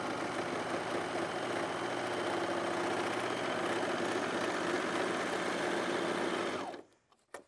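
A Brother Airflow 3000 four-thread serger runs steadily as fabric feeds through, a fast, even mechanical whir with rapid stitching chatter and a side cutter trimming, close and continuous, then stopping abruptly near the end.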